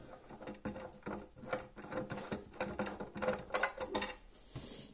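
The joystick on a Pandora Box 3D retro arcade console is unscrewed, giving close, uneven bursts of small mechanical clicks and rattling taps.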